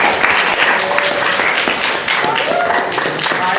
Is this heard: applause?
yes